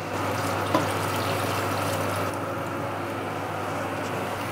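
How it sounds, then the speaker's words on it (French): Hot water, about half a litre, is poured into a pot of Provençal daube stew, making a steady, close, rushing splash that runs unbroken for several seconds. "on va pouvoir rajouter de l'eau, à peu près un demi-litre"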